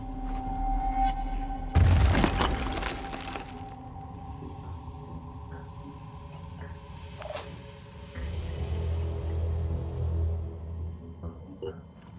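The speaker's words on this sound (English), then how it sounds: "I'm gonna keep throwing grenades" Grenade blasts in the video game Terror from the Void: a sudden loud burst with crackling debris, a sharp later pop, and a rumbling tail over steady game machinery hum, with no voices.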